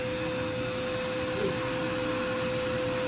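A household vacuum cleaner runs with a steady, even drone and a high motor whine that holds through the whole clip. Faint voices are heard softly underneath.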